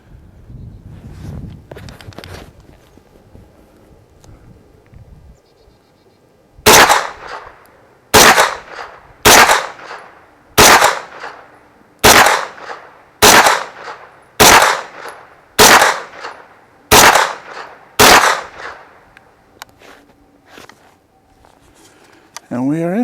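A Taurus CT9G2 9mm carbine fires ten evenly spaced single shots at an outdoor range, each a loud sharp crack, after quieter handling noises and brief talk at the start.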